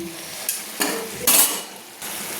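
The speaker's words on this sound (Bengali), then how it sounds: "পালং শাকটা কি সুন্দর ফুটছে দেখুন" Spinach and prawn curry bubbling in a pan, a close sizzle broken by a few sharp scrapes and clatters of a spoon stirring against the metal.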